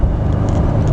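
A 2018 Ford F150 XLT with the 3.5 EcoBoost engine accelerates hard in sport mode, a loud, steady, close engine roar with a deep low rumble and no voices.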